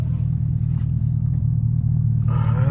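A Chevrolet Camaro ZL1's engine rumbles steadily during a night drive, a deep, loud, continuous drone heard from inside the car, alone without talk.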